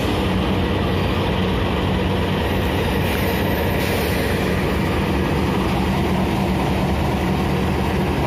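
The Jayakarta passenger train's engine idles while it waits for the Bima train to pass, a loud, constant low rumble that stays steady and close for the whole stretch.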